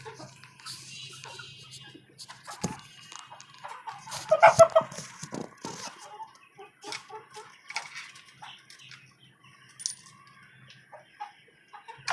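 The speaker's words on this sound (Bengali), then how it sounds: "এই হচ্ছে আমার একটা টাইগার মোরগ" Desi tiger rooster and hens on a rooftop poultry farm atop a five-storey house, with scattered clucks and short calls over a low background hum and a louder burst of activity midway.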